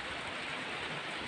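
Heavy rain pours on a small hut in a steady, dense hiss with no pauses, loud and close, with no voices.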